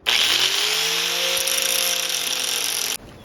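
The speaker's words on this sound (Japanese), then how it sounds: "それから削ります。" Power tool grinding down a metal part for a duck bill modification on a Harbor Freight manual tire changer: a loud, close whine that starts abruptly, holds steady with small pitch shifts, then cuts off sharply near the end.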